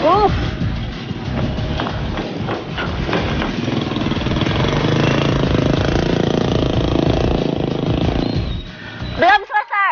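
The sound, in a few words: motorcycle engine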